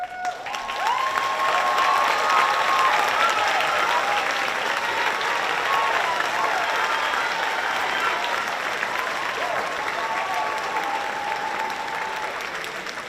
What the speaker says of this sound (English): I think that round of applause was a little bit for me.